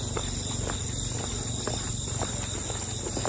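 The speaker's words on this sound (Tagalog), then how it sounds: "Huni ng kuliglig ba yun?" Steady high-pitched cricket chirring fills the air in the woods near Dahoyhoy Waterfalls in Mauban, Quezon, constant and moderately loud, with scattered light footsteps and rustles beneath.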